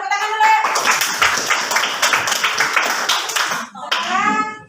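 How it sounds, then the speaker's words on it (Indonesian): Primary schoolchildren in an Indonesian classroom clap their hands together in a brisk, loud burst of rapid claps that stops briefly, with children's voices mixed in around the clapping. "coba tepuk tangan dulu"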